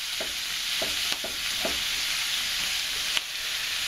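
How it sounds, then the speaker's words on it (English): Cabbage with bacon stir-fries for a Taiwanese dish. A continuous loud sizzle fills the pan, with several quick spatula scrapes near the start. "I can see some of the small pieces of cabbage are starting to brown on the outside."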